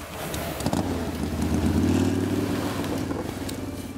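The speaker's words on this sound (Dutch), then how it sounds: "Het is een motorfiets." A motorcycle engine drones past a roadside, its steady low hum swelling louder toward the middle and then easing slightly, with a rough clatter underneath and no voices.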